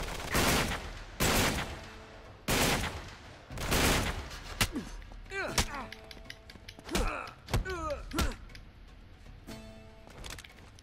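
Gunfire in Uncharted 3: Drake's Deception, a London Underground level, with several heavy shots early on, then sharper bursts mixed with chirping and squealing effects, all fairly close and loud against a busy game backdrop.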